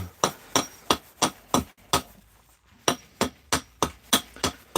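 Axe chops rhythmically into a large willow wood bowl, a close series of sharp, evenly spaced knocking strikes with one short pause midway, with no voices.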